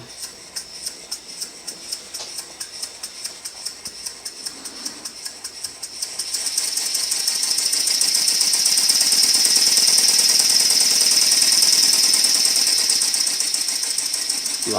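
A homemade steam engine runs with a fast, even mechanical ticking and chuffing. Partway through, a loud, steady hiss of steam rises over the rhythm and then eases back.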